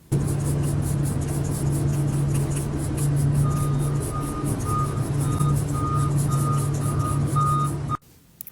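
A feed truck reverses on a farm, its backup alarm sounding a steady run of evenly spaced beeps over a loud, rumbling diesel engine close by, until the sound cuts off abruptly.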